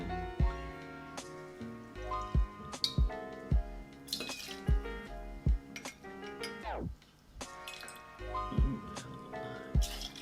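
Two ounces of tequila are poured into a glass amid bright glassy clinks and knocks, with small drips and liquid splashes in an irregular sequence, fairly close and quiet.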